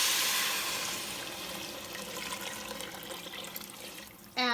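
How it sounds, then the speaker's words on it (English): Water pouring into a cooking pot for Mexican albóndigas meatball soup, a steady rushing splash that eases slightly and then ends with a sharp clatter. "So I added more water."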